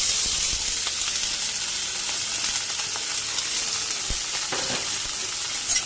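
Frozen peas, onion and bell pepper hitting hot oil, a loud close crackling sizzle throughout with light stirring knocks, no voices.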